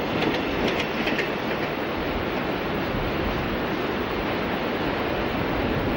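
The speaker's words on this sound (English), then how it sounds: "Today's train is a long one by Mexican standards. It's a total of 65 cars." A long 65-car freight train on Mexico's Pacifico Railroad rolls past, a dense, steady roar of wheels and cars holding at full loudness throughout, with faint clicking near the start.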